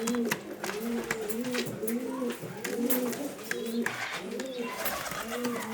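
Arabian and Syrian homing pigeons coo beside nests built from bricks, with a chick present: repeated rolling coos pulse in a steady rhythm close by, with someone talking intermittently over them.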